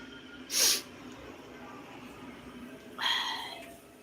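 Two sharp, breathy sneezes sound close by, about two seconds apart, against a quiet background hum.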